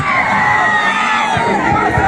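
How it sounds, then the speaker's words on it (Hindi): A large crowd at a Bihar by-election rally in Tarari roars with cheering and shouts to welcome LJP leader Chirag Paswan, a dense, loud, continuous wall of voices close around. "जोरदार तालियों से स्वागत कीजिए युवा नेता श्रीमान चिराग पासवान जी"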